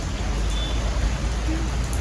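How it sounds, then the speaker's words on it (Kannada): Heavy rain pours as a dense, steady hiss heard from indoors while shoppers wait it out, continuous and fairly loud throughout. "ಸಿಕ್ಕಾಪಟ್ಟೆ ಜೋರು ಮಳೆ"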